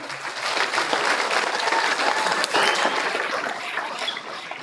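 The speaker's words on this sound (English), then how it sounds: "I just want another huge round of applause for a very special school year with our fourth grade students." Sustained, dense applause from an audience at a fourth grade promotion ceremony at an elementary school, steady and full throughout with no break.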